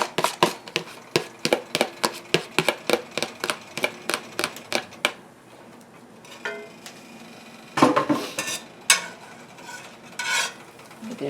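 Spaghetti sauce starting to cook in a pan on the stove: a rapid run of sharp clinks as a utensil taps the pan, then quieter scraping and stirring with a few more clatters, close and moderately loud.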